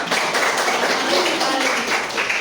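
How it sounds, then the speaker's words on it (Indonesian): A classroom of students claps for a classmate, giving a quick, steady patter of many hands that fills the room evenly and continues throughout without a break. "tepuk tangan untuk temannya"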